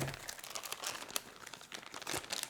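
A sealed oxygen absorber packet is cut open for long-term food storage, giving close, soft crinkling and rustling of packaging that runs steadily for a couple of seconds with a few sharper crackles.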